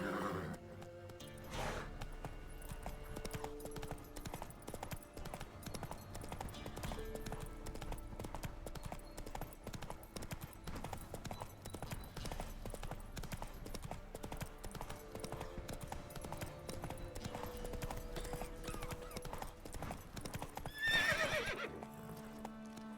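Roach, a horse in The Witcher 3, gallops with a steady, continuous clip-clop of hooves, then neighs loudly near the end. Game background sound sits beneath the hoofbeats.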